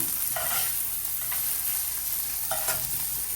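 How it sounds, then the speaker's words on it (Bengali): Bitter gourd fries in hot oil with a constant, even sizzle, broken by a couple of brief scraping stirs near the start and again near the end. "এই যে করলাটা বসাই দিচ্ছি ভাজা"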